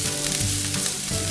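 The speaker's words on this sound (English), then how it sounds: "let's start with the onions. Nice sizzle." Onions sizzle and crackle steadily in a titanium frying pan as they are moved around, a close, bright hiss with no talking.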